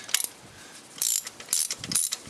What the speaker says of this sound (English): So I'm just going to loosen all these ones with the ratchet